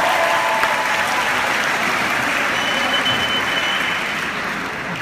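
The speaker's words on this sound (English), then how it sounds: "if we could give them a round of applause" A graduation audience applauds loudly and continuously, a thick wash of clapping that tapers slightly near the end, with no voices clearly standing out.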